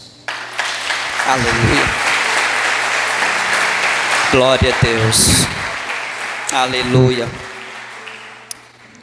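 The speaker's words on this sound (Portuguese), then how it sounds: "Dê um aplauso a Jesus." A church congregation bursts into sustained clapping during a worship service, loud and dense, while voices shout praises over it before the applause tapers off.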